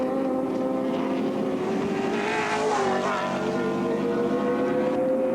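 Peter Brock's touring car races through Castrol Curve at Oran Park Raceway during the 1984 ATCC round, with other cars nearby. The engines drone loudly and continuously, with a rising and falling pitch and a brief tire squeal, and no one talks.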